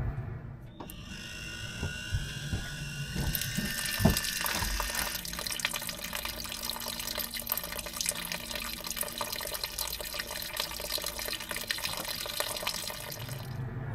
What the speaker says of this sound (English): With the push of a button, we are draining our gray water tank.